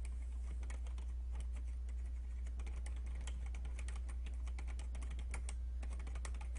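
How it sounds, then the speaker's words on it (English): Someone types rapidly and hard on a computer keyboard during an online game of Town of Salem, dense clattering keystrokes running steadily over a low constant hum, with no talking. "Furious typing."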